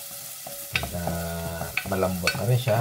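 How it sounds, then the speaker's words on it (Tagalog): Squash sautés with garlic and onion in a pan, with steady sizzling and frying, sharp clinks and scrapes of a stirring utensil, and a low hum underneath. Someone speaks briefly over it. "gigisa ko naman itong aking squash"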